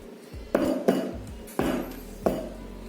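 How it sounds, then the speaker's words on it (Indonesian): A cake baking pan is rapped down on a hard surface four times to settle the batter, each tap a sharp metallic clank with a short ringing tail, spaced unevenly and heard up close. "Hentakkan loyang beberapa kali."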